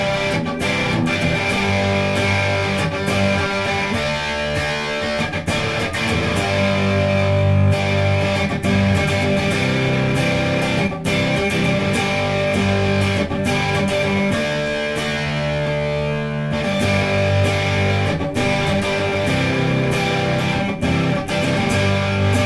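A Firefly LP electric guitar chugs out dense, heavily distorted rhythm chords, steady and loud throughout with brief choked pauses between phrases, no voices over it.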